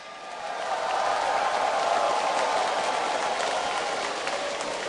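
A large crowd at a League of Legends esports final cheers and applauds in a steady, broad roar that swells and holds without pause.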